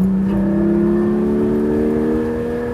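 A Porsche sports car engine, a 356 Speedster or 718 Spyder, hums with a steady, rising tone, holding a smooth revving pitch without pause.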